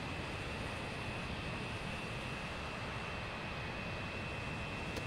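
Steady, continuous roar of the Avro Vulcan bomber's jet engines in a flight simulator, a broad, even drone with a faint high whine, held without a break throughout.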